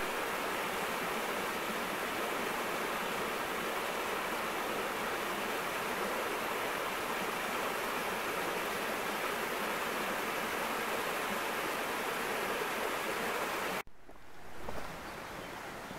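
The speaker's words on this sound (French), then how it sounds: "Regardez-moi ça, la belle petite cascade." A small waterfall pours into a clear mountain stream, a steady loud rushing wash of water that fills nearly the whole stretch before cutting off abruptly near the end, with a brief softer murmur afterward.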